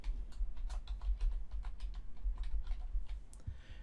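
A computer keyboard is tapped in a quick run of light, sharp key clicks as a password is entered, close and quiet, with no talking.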